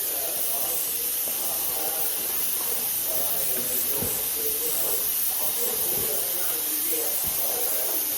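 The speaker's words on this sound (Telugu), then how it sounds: "మరుగుతున్నాయి కదా నీళ్ళు." Water boils in a pot in a home kitchen, giving a steady, loud, hissing rumble with a few bubbling pops throughout.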